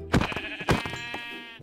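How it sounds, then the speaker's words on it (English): A sheep bleats loudly in the video game Minecraft, two sharp onsets followed by a long wavering cry of about a second and a half, close and alone. "Okay, let's kill the sheep."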